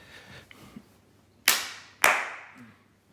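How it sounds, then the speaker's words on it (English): Two sharp hand claps ring out about half a second apart in a very open room fitted with only two acoustic panels, each followed by a short decaying echo; faint soft knocks come before them. "So we'll just give it a quick"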